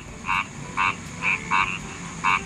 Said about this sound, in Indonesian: sepertinya ini katak